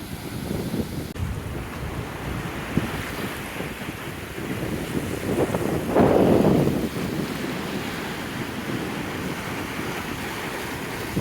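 Ocean waves wash in under steady wind buffeting the microphone at Xcacel beach, with a louder surge of surf a little past the middle.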